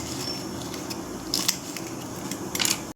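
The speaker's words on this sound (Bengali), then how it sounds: "কাঁচা লঙ্কা কেটে নিচ্ছি" Green chillies are cut for a Bengali cabbage chow mein, with a few short, crisp snips close by over a steady kitchen hiss.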